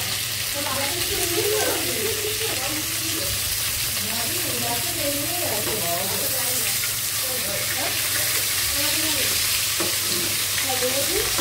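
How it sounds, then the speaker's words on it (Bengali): Meat frying in a pan for biryani makes a steady, loud sizzle with stirring throughout. A voice talks intermittently over the cooking. "মাংসটা ভেজে নিচ্ছি"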